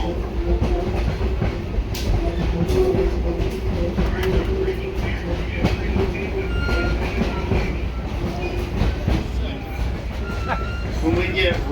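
A long Blue Ridge Scenic Railway train rolls across a bridge near a river fish trap, a steady low rumble with faint rhythmic clatter and an occasional high squeal, while a person talks over it.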